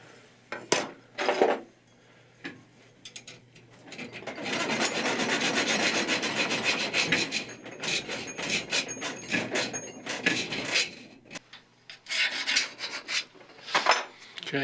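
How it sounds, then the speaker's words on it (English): Small hand file rasping and rubbing over a milled metal brake shoe for a 5-inch gauge railway trolley, removing the burr in irregular bursts of scraping strokes with brief pauses and clinks between. "I'm going to just clean off the swarf that's been created by the milling cutter."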